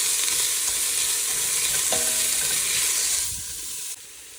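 A big load of onions sautéing in a pan for Filipino papaitan gives a steady, close broadband sizzle with light stirring. Near the end the hiss drops and softens.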